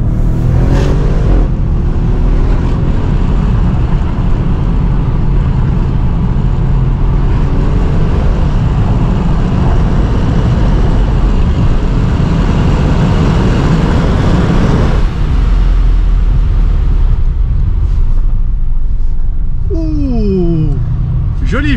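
An Audi RS6 C7 Performance with 605 hp and 750 Nm accelerates hard, its exhaust giving a loud, continuous, close-up roar that eases briefly before building again. People talk in French over the engine.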